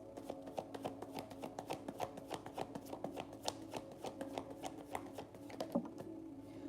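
Tarot cards shuffled by hand in a steady run of quick riffling taps, close and moderately loud over a constant low hum, with no voice heard.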